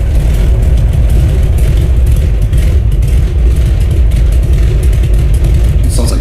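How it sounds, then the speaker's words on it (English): Radial aircraft engine of an Avia BH-5 in a flight simulator, misfiring at idle, producing a loud, steady, rough low rumble that continues without pause throughout. "It sounds like it's misfiring at idle."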